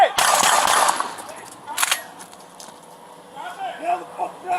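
Gunshots as a Phoenix police officer shoots an armed suspect, a rapid loud burst of shots at the start and another crack shortly after, amid shouting voices.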